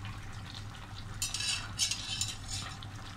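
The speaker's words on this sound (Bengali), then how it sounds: "এখন আমি মাছগুলো দিয়ে দিচ্ছি" Fried rui fish pieces go into a simmering eggplant curry in a pan, giving a soft bubbling sizzle with a brief louder burst of frying and faint utensil scraping, close and without speech.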